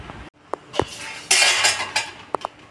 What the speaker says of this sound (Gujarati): હું આ રીતે ચોરસ કટ કરી દઈશ.